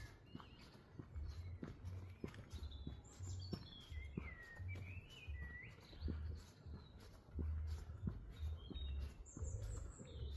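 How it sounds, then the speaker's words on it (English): Birds chirp and trill in short bursts throughout, with a steady pattern of low thumping steps beneath them. "I hope camera's picking up sounds of them birds. It sounds absolutely beautiful."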